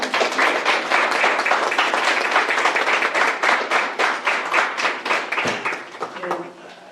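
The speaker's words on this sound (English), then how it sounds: "18 rounds deserves another round of applause" Sustained applause and clapping from an audience at a 2023 district spelling bee after an 18-round contest, dense and steady for several seconds before thinning into scattered claps, with some voices mixed in.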